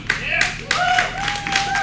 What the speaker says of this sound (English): That crowd is hot, Garrett.